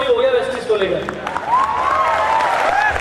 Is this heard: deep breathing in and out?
no